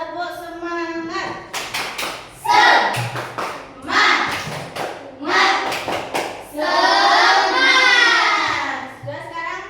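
A school class performs a rhythmic clapping chant, with sharp hand claps in patterned bursts mixed with children's chanted voices, alternating between clustered claps and sung phrases.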